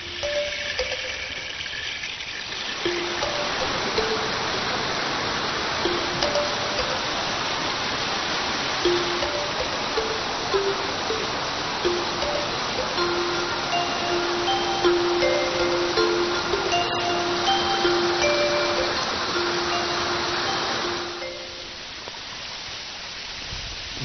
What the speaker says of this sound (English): This is the thousand stage waterfall, and it's pretty spectacular now